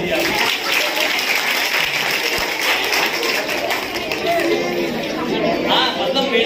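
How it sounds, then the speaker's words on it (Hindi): A crowd of children at an Urdu high school calligraphy workshop clapping steadily throughout, with chatter and voices mixed into the applause. "अपने लिए तालियां बजा लीजिए आप"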